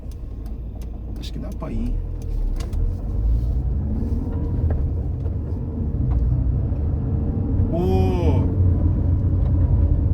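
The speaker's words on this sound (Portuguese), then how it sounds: "Deixa eu parar aqui o carro totalmente, colocar uma primeira." Car idling in first gear during a driving-licence practice drive, a low steady engine rumble that swells slightly as it pulls away, with someone speaking briefly over it and a short squealing whine from outside.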